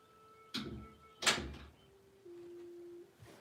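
A door swings shut indoors on a night when moths are flying outside, giving two sharp knocking thuds about a second apart, followed by a steady low electrical hum and a faint bump at the end.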